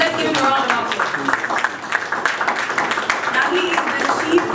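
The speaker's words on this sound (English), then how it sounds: "Let's give him a round of applause." An audience claps to welcome a panelist onto the stage at an investment conference, a moderate spread of applause with voices murmuring through it.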